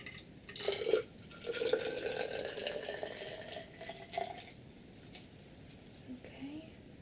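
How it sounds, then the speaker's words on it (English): Acidic liquid poured into a container during a soft-spoken science experiment, a close trickling and dripping that rises and fades in short bursts, fairly quiet, with faint soft speech around it. "I'm just going to carefully pour it into this container."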